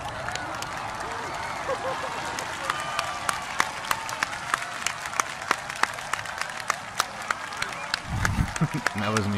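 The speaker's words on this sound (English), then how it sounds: "And that was me clapping." A single person clapping, sharp hand claps in an irregular rhythm over a continuous crowd roar after fireworks, with a low rumble and voices rising near the end.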